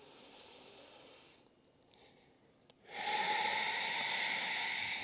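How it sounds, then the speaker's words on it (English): Slow, audible Ujjayi breath during yoga practice, a soft airy hiss with throaty friction, one long drawn breath fading, a short pause, then a stronger steady exhale, close and alone. "like Ujjayi breathing."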